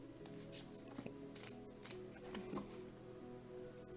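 Soft, quiet shuffling of tarot cards with a few crisp riffles and slaps at irregular intervals, close by, with no talking.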